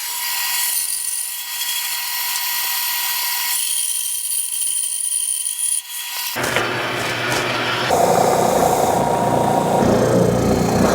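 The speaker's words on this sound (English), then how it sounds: "we'll go to the bandsaw and we'll cut out the shape" A bandsaw whines steadily, then bites into wood with a louder rough, grinding cutting sound that continues to the end, cutting out a spinning top's shape.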